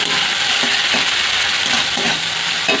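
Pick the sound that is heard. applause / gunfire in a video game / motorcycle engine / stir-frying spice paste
stir-frying spice paste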